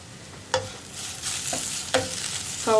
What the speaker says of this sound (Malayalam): ഇനിയിപ്പോൾ നമുക്കൊന്ന് ഇളക്കി കൊടുക്കാം.